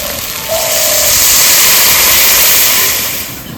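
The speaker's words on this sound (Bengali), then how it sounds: "ঝোলটা ফুটে গেছে, মাছগুলো দিয়ে দেবো।" Steady loud hiss and bubbling of a mustard-based fish curry broth boiling in a pot, a continuous wash of sound swelling slightly in the middle and easing toward the end.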